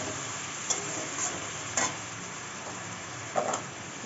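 Spice paste of chili and a splash of water sautés in a pan for a fish curry, a steady close sizzle with a few sharp scrapes of a stirring spoon against the pan.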